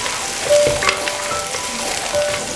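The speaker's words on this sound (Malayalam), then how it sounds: "എണ്ണ ചൂടായിട്ടുണ്ട്. നമുക്കിതിലേക്ക് ചെറിയ ഉള്ളി ഇട്ട് കൊടുക്കാം." Small onions, three cups of them, drop into a cup of hot sesame oil and crackle loudly in a close, bright sizzle with a few sharper pops, no talking over it.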